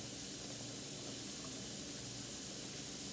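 Chopped onion sizzles in a hot frying pan, a soft, steady hiss of frying that holds evenly throughout at low volume.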